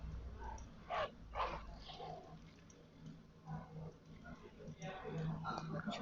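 A small dog in a video game yips and barks in short bursts, close and fairly loud, while someone talks over and between the barks.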